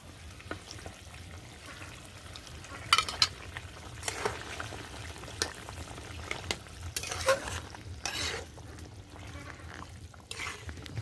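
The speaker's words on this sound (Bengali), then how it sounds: "এবার দিয়ে দেব ভেজে রাখা মাছ।" Fried fish goes into gatikochu cooking in a pan, with a low steady sizzle broken by scattered clinks and scrapes of a spatula against the pan, close and without talk.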